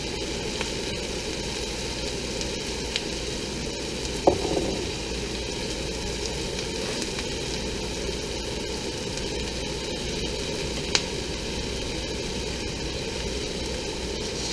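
Rice frying in hot oil in a pan for Chinese fried rice, a steady, even sizzle and crackle throughout with a couple of brief sharp pops.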